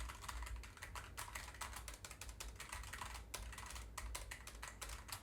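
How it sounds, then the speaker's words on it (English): Rapid clicking keystrokes on a computer keyboard, picked up by an NZXT Capsule microphone, come in a quick irregular patter, faint and close, with no talking. "So here's the keyboard."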